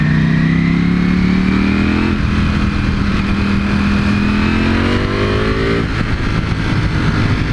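A Ducati Panigale V4S sports bike being ridden, its engine climbing in pitch through long, loud revs, with two clear gear shifts where the tone drops before rising again.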